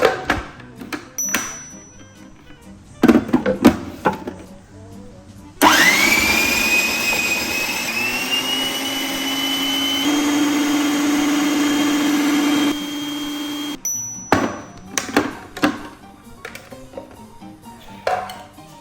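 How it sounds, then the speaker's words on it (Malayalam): A mixer grinder grinds coriander, lime juice and oil into a paste, a loud steady motor whine that rises in pitch as it spins up and holds for about eight seconds, set between clatters and knocks of handling. "എന്നിട്ടിത് നന്നായിട്ട് അരച്ചെടുക്കുകയാണ് വേണ്ടത്"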